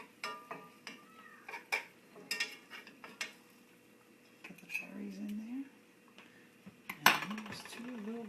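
Spoon scooping baked berry cobbler out of its dish, with scattered clinks and scrapes of utensil against the pan and faint voices in the background.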